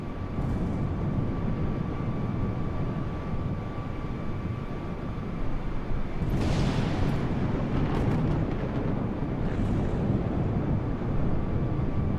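Airbus A320neo in Microsoft Flight Simulator on an IFR flight from Seoul to Tokyo: a steady, loud broadband engine and airflow roar fills the cabin throughout, with a brief swell of rushing noise partway through and no talking.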